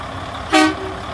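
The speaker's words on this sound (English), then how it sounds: "it'll blow the horn at night, the train horn" A loud, brief train-style air horn mounted on a truck sounds once at close range, a single harmonic blast of about a quarter second over a steady low background.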